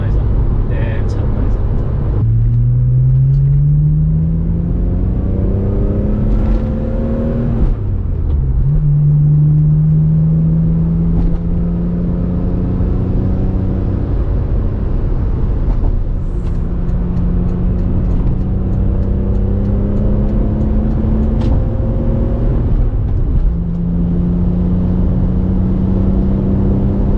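A BMW M3 E46 convertible engine revs through repeated rising gear pulls while driving, strong throaty tones climbing and dropping at each shift, with a voice talking over it at times.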